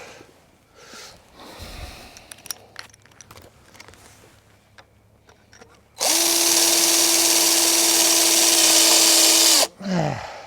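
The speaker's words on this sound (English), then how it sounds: "now let's see if I can drill the second one" A power drill whines steadily for several seconds drilling into wood, loud and close, after quieter clicks and handling sounds, then stops abruptly with a brief tail.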